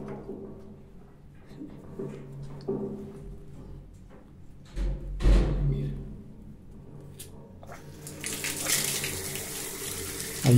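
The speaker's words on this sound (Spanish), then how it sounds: "Lo malo es que va a salir el agua por ahí." Water gushing out through the flow valve of a Yang calefón (gas water heater) during maintenance, a steady splashing stream that grows louder and brighter toward the end, with a few clunks and taps of handling along the way.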